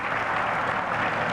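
Steady burst of audience clapping at a diary launch event in Nizamabad, dense and even, filling the short moment without speech.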